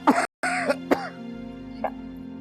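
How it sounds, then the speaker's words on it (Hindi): An elderly woman coughing, a few harsh throaty coughs in a quick burst, then a softer throat clearing, close and fairly loud with no talking. "जरा सी खांसी है।"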